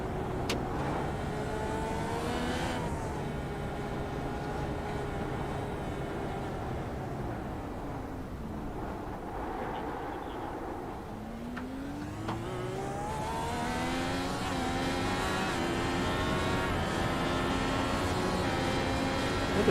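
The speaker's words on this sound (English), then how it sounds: "A little bit of short shifting going on there" A race car engine at the Long Beach Grand Prix, loud and continuous, rising through the revs, dipping on short, early upshifts and then climbing again. No voices.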